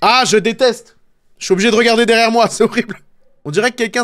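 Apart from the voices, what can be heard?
No everyday noises stand out.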